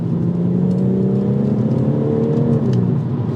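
A BMW M140i with the B58 engine and an Osprey V3 intake pulls hard in 4th gear, its engine drone rising steadily in pitch as it accelerates, heard from inside the car.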